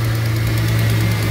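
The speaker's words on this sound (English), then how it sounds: "Now you can hear a little bit of an exhaust leak" A 2003 Ford Mustang engine idles steadily and smoothly with a constant low hum, and a slight exhaust leak may add a faint ticking edge to the running note, close and continuous throughout.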